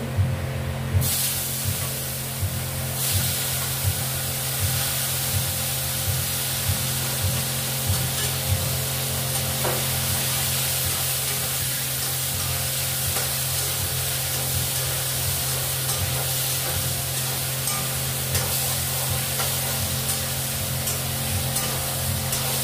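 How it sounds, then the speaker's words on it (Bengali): Cumin seeds sizzle in hot oil as a tempering before bhola fish is cooked with potato and eggplant, giving a steady, loud, close hiss that runs unbroken through the whole stretch with no voices. "আমি এখন এই জিরে সম্বার দেবো"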